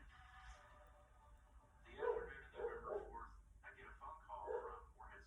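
A dog barks in a few short bursts, the barks fairly faint and mixed with a person talking in a quiet indoor room.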